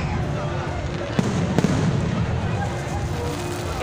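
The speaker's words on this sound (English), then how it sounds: "Ito na, guys, yung fireworks." A fireworks show at Al Wathba in Abu Dhabi booms and crackles in a continuous dense roar with a few sharper bursts, while spectators talk and cheer nearby.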